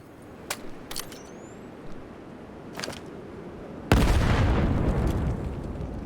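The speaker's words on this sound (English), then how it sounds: "Beautiful grenade, but not connecting." Grenade explosions in the virtual reality shooter Vail during a competitive match: a few sharp distant pops, then a loud close blast that leaves a sustained roaring rumble.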